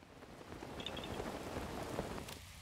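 Rain falling in The Legend of Zelda: Breath of the Wild, a steady hiss of drops on the ground with faint patters and a low distant rumble of thunder, even and moderately quiet throughout.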